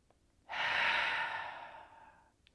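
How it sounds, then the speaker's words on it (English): A single slow, deep breath during a yoga practice, a long airy rush of air close by that swells and then gradually fades over about two seconds, with quiet around it. "So take as many breaths like that as you need."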